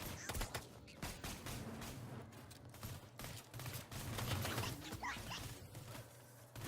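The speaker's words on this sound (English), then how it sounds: "so from now on I'll be using a sniper rifle" Sniper rifle fire in the video game Borderlands 2, scattered sharp cracks spread across a busy game soundscape with rumbling background, shots recurring at irregular intervals.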